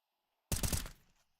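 A single short, sharp burst of Counter-Strike gunfire from a competitive online match, loud and close, cutting off abruptly and fading in under a second.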